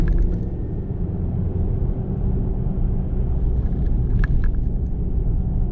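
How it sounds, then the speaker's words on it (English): Cabin noise in a 2024 Chevy Colorado ZR2 with a four-cylinder turbo engine while driving: a steady low engine and tire rumble, close and continuous, with a brief faint higher whine near the end. "if you listen carefully while driving, you can definitely hear that turbo spool up"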